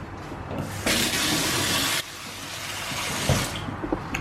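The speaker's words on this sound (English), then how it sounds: "And I'm going to put some cold water in it." Cold tap water gushes into a heavy bowl in a home kitchen, a loud steady broadband rush lasting about a second before easing to a softer trickle with faint clinks.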